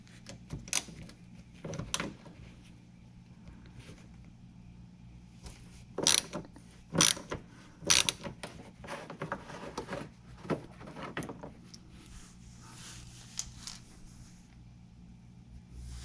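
Ratchet wrench with an extension loosening a 10mm screw during SC430 corner light work, heard as faint mechanical clicking and a few sharper clanks over a low hum of background noise.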